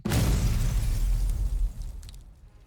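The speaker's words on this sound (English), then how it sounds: "the sound of more gunfire and explosions come from the other side of the rubble" A loud, close blast rips out in a Girls Frontline 2 battle amid rubble, a heavy booming explosion with crackling debris that decays over about two seconds, with no talking.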